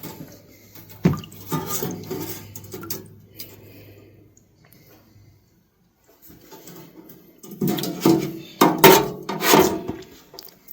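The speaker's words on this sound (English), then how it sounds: "dripping water everywhere here." Water drips and splashes as vintage blades are lifted out of a VEVOR ultrasonic cleaner, with scattered clinks of metal against the tank, a quiet pause in the middle, then a denser burst of dripping and handling.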